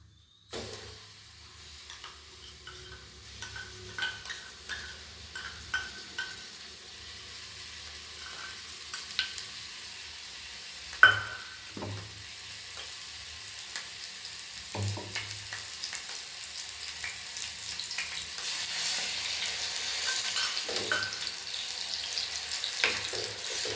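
Ground masala paste sizzles in hot oil for a baby potato masala, a steady frying hiss rising over time with scattered clinks and scrapes of a spoon stirring, one sharp knock near the middle, no voices.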